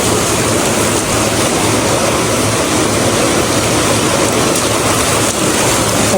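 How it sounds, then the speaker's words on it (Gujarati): Heavy rain mixed with hail pours down during a motorbike trip in Rajasthan, a dense, constant roar of water with no breaks, loud and close, with no voices. "જબરજસ્ત વરસાદ ચાલુ છે, કળા સાથે બરફ પણ રહે છે"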